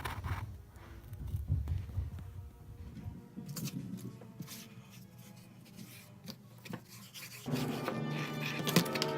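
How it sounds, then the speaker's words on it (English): Sandpaper rubs steadily by hand across the top of a bench top anvil, a dry rasping scrape that continues near and moderately loud, growing brighter and harsher toward the end. "So from this point forward, it's just going to be basically sandpaper."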